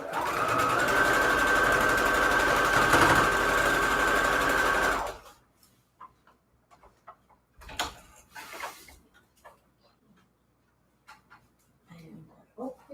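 Fabric scraps are stitched together on a sewing machine, a fast, loud, steady whirr running for about five seconds before stopping, followed by quieter handling noises and brief rustles.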